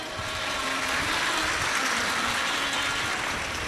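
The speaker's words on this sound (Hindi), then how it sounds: "एक बार जोरदार ताली बजाओ" A large audience at a Shiv Mahapuran religious discourse in Raipur claps loudly, a steady, dense wash of applause filling the whole stretch with no voices over it.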